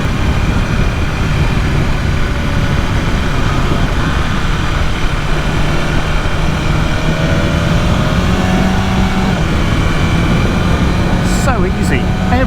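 BMW S1000RR sport motorcycle engine running while riding, a steady loud drone with rising and falling engine tones under heavy wind rush.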